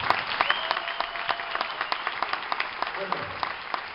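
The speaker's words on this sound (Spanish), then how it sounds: "Un fuerte aplauso para este maestro." An audience at an end-of-year school concert of bagpipe players applauds, with brisk, dense clapping from a moderate crowd that continues through the whole stretch.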